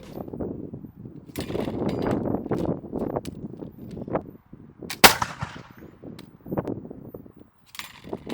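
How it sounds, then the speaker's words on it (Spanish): A musket fired during a historical reenactment demonstration at Fort George, Niagara-on-the-Lake: one sharp, loud crack near the middle, amid outdoor crowd murmur and shuffling before and after. "nos acaban de hacer una demostración de cómo se dispara un mosquete"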